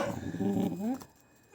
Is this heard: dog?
yes